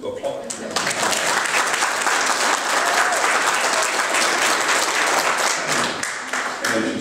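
At an anniversary gala, the crowd bursts into strong, steady applause that holds for several seconds with some voices mixed in, then thins out toward the end.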